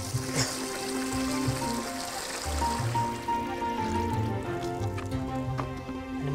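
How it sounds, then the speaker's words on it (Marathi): Ten litres of water pour into a tub with a continuous trickling, splashing stream, close and fairly steady, alongside some faint handling knocks. "आता टबात 10 लिटर पाणी वाटायचं."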